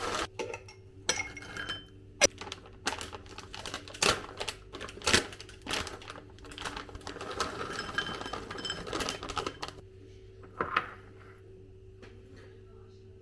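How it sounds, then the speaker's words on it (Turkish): Mixed dried nuts rattle and clink into a dish in a series of sharp irregular bursts, with a busier patch of dense pattering in the middle and quieter gaps at the end. "birazcık böyle kuru yemiş açıyorum. Karışık."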